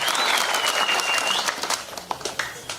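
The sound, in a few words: applause and cheering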